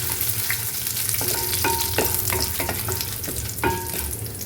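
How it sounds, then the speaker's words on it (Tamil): Four dried red chillies sizzle and fry in a pan for a mint thuvaiyal while a spoon stirs and scrapes, with several sharp clinks against the metal. "நெக்ஸ்ட்டு காஞ்ச மிளகா ஒரு நாலு காஞ்ச மிளகா போட்டு நல்லா வறுத்துக்கணும்"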